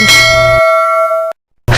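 A bright notification bell chime rings once, a clear sustained ding with ringing overtones that fades out, followed by a short silence and then a cut back in.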